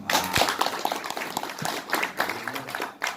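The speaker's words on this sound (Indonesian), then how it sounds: "Tepuk tangan dulu dong." An audience at a public discussion about forming a new regency claps in a burst of scattered applause lasting a few seconds, fairly close and even in loudness.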